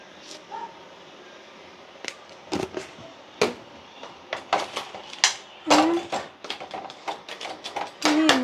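Spoon scraping and clinking against a pot while salt is mixed into a crab curry, with irregular sharp knocks and scrapes, moderately close.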